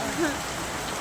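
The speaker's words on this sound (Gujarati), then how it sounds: "જોરદાર વરસાદ પડો" Heavy rain pours down steadily during a dark midday downpour, a continuous hiss of drops close by that holds even and unbroken through the short moment.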